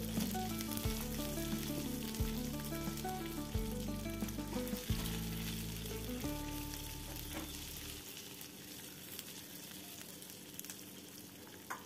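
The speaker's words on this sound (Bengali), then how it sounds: "পেঁয়াজের টুকরোগুলো দিয়ে একটু আমি ভেজে নেব। 2 মিনিট মতো আমি ভেজে নেব পেঁয়াজগুলো।" Onion pieces frying in a pan give a steady, close sizzle under loud background music with melodic notes, and the music stops near the end while the frying continues.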